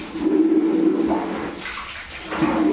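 Water pours steadily from a tap into a bucket being filled for a bath, a continuous close rushing with a low hum and slight shifts in tone.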